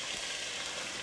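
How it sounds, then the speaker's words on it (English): Onions caramelizing in a pan while cooking a Guinness stew, a steady close hiss of frying with soft crackles, brief and continuous. "Got to get a little caramelization going on our onions."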